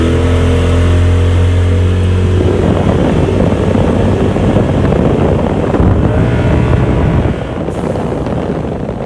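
A 2019 Polaris RZR Turbo S side-by-side drives along with its exhaust closed, giving a steady, close engine drone mixed with heavy wind buffeting and no talking.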